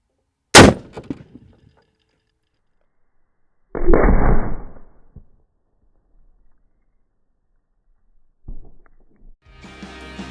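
A rifle round is fired at motorcycle chain body armor outdoors, giving one sharp, loud shot that decays quickly, followed by two more bursts of impact and movement noise separated by silence.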